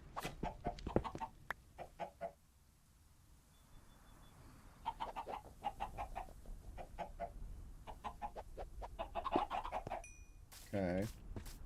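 Chickens cluck in Minecraft Bedrock Edition, short clustered bursts repeating through a farm pen, sitting under faint background game ambience with a brief louder squawk near the end.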